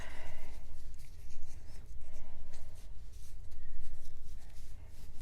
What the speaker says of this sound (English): I'm just trimming my tails on my bookmarks